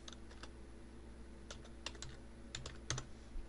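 Keys clicking on a computer keyboard as a message is typed, soft irregular taps in short bursts over a faint steady background hum, close and quiet with no one speaking.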